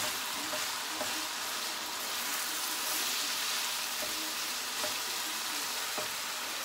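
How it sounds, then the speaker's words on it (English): Shepherd's pie filling with Worcestershire sauce frying in a pan, a loud steady sizzle throughout with occasional scraping taps of a stirring utensil. "I'm going to stir this around."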